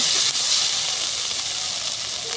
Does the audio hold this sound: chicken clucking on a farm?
no